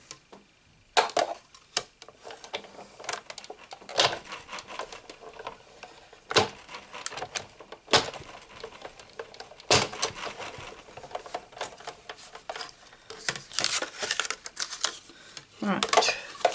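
Navy cardstock is punched into a scalloped square with a craft punch, a series of sharp clacks and clicks at irregular intervals, close and fairly loud over a quiet background with faint handling noise.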